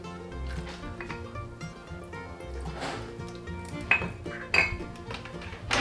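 A metal lid clinks onto a pot filled with apples and lemon juice, with light metallic taps and clatter against the rim. The sounds are close, with a couple of sharper clinks near the end.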